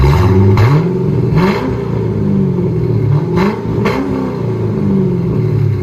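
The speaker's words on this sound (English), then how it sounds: "Chevy Corvette with CARVEN R-Series." A 2005 Chevy Corvette with a 6.0L V8 and Carven R-Series dual exhaust revs loudly and close by, with several sharp throttle blips rising and falling over a steady deep idle rumble.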